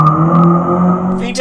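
K-swapped Honda CRX engine revving hard at high RPM, a loud, close, sustained drone that holds steady for over a second, with a sharp burst near the end.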